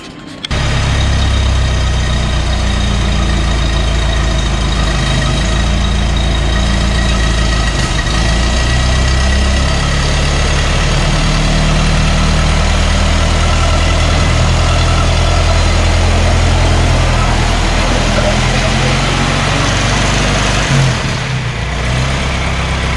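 A 1923 Ford Model T engine running after sitting for over 25 years, a loud, steady, low rumbling idle that carries on close and unbroken with no talking.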